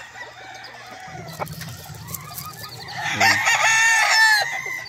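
Rooster kept by a breeder in San Cristóbal crows loudly and close in one long drawn-out call near the end, after softer clucking and low farmyard noise; someone speaks a single word briefly.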